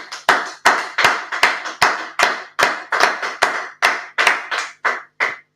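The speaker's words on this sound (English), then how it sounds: "Clap it up." A class group at a UK religious teaching session claps together on cue, about fifteen sharp, separate claps at a fairly steady rhythm, close and loud, with no talking over them.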